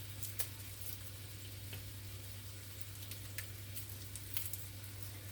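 Bacon fries in a pan on low heat, a faint, steady sizzle with scattered small pops and crackles, heard alone without talk.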